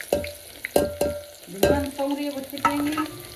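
Onion hits hot oil already seasoned with cumin and asafoetida, giving a close sizzle punctuated by several loud spoon scrapes and clanks against the pan in an uneven rhythm.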